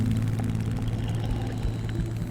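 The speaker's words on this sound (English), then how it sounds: "returning from a mission in Morotai, North Maluku, in a B-24 bomber plane" Droning propeller engines of a B-24 bomber plane, a steady low hum with throbbing tones, loud and continuous throughout.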